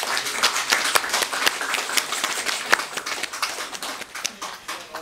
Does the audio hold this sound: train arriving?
no